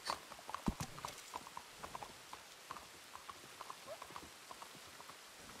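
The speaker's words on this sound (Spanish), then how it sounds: "Su caballo huye de él." Horse hooves clip-clop in a video game, a run of distinct hoofbeats that are loudest at the start and then fade into lighter, evenly spaced taps as the horse moves away, with no talk.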